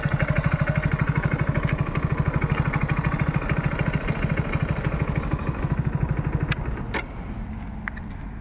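A Hero Splendor Plus motorcycle, 2025 model, idles steadily with a rapid, even chugging, then revs drop and a few sharp clicks and knocks sound near the end.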